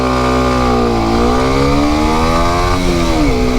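A motorcycle engine held at a steady rev close by, its pitch dipping and rising as it pulls away from a standstill, with loud, continuous mechanical drone throughout.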